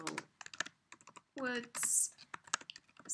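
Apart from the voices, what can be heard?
typing a file name on a computer keyboard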